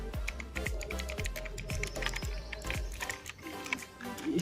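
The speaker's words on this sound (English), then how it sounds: "The clicks on the keyboard feels really nice, and this is because the keyboard uses Cherry MX Blue keys." Typing on a plastic-bodied TVS E-Bharat mechanical keyboard with Cherry MX Blue switches, a close, quiet run of crisp clicks at a steady typing pace, each keystroke sharp, with no talk.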